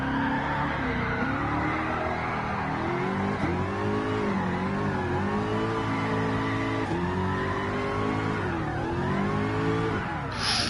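A car engine in the GT Sport video game revs hard under heavy throttle while drifting at Tsukuba, a continuous loud wavering whine with rising and falling pitch and a thin tire squeal running through it.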